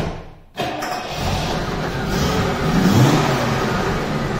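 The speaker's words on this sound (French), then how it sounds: "Et la voiture est sortie." A Jaguar V12 car pulls away after a brief quiet start, its engine rising into a steady, loud rumble that builds and holds as it drives off, with no talking.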